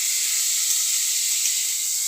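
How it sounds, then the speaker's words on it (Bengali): Bottle gourd peel frying in a pan, giving a steady, loud, airy sizzling hiss that holds constant throughout, with no voices. "লাউয়ের খোসা ভাজা"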